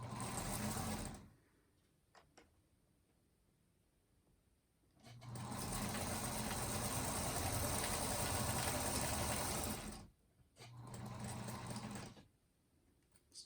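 A sewing machine stitches a quarter-inch seam on a table runner in three bursts, one short, one long steady run and a brief final run, with quiet pauses and light handling clicks between, close and clear with no talk.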